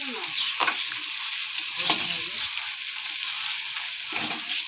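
Chicken in tomato gravy with green chillies sizzles steadily in a pan while a spoon stirs it, a loud continuous fry with a few scraping strokes, no talking.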